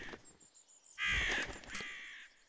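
Crows in the Zoo 2: Animal Park video game give a few harsh caws: a short call, then a louder drawn-out squawk that fades, all fairly quiet against near silence.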